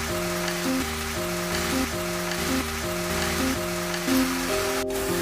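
Chopped banana flower with grated coconut fries in a pan with a steady, hissing sizzle, heard beneath a looping melodic background tune.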